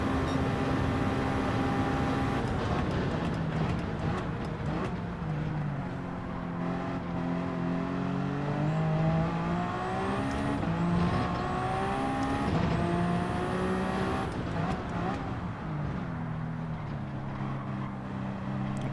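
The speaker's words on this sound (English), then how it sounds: "Look, all of a sudden the car gets faster." A race car engine in Gran Turismo 7 revs and accelerates through gear changes, its pitch climbing in repeated sweeps, loud and steady for the whole stretch with no talk.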